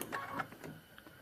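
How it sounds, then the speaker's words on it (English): A domestic sewing machine makes a short burst of a few stitches on a paper-pieced prairie point trivet, quiet rapid mechanical clicks that fade out within about a second. "Drop my presser foot and I'm going to sew just a little ways."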